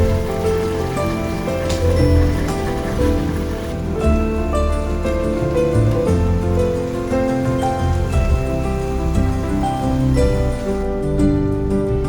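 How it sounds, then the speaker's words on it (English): Rain falling outside an indoor art room, a soft steady patter heard under a louder tonal music bed that plays throughout. "it is a beautiful rainy day outside"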